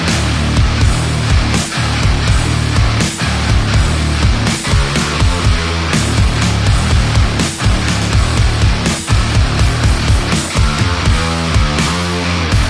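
Metal remake of a song, with dense, loud distorted guitars and pounding drums driving continuously throughout and no speech.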